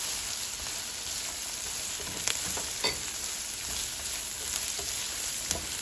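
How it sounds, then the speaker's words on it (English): Carrots frying in a hot pan with garlic for fried rice, a continuous bright sizzle with scattered sharp crackles and pops, close and alone, with no talk. "I'm going to let the carrot fry for a little bit"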